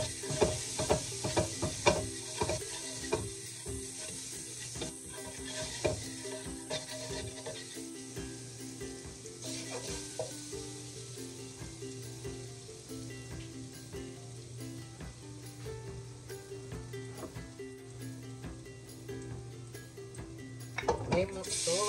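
Garlic sizzles and hisses in a pan being stir-fried for shrimp fried rice, a soft steady frying bed broken by scraping stirs and clinks, with a person talking over parts of it.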